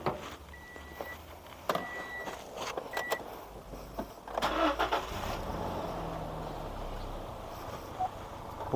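An auction car in Palembang is started: clicks and a brief crank give way to the engine catching, then a steady, moderate idle continues in a quiet setting.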